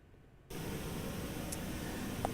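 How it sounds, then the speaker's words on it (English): A steady wash of broadband noise switches on abruptly after a brief quiet moment and holds evenly, hissing like a test signal. "I'll get the pink noise going."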